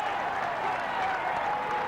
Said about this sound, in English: Now they're cheering him up through a corridor of noise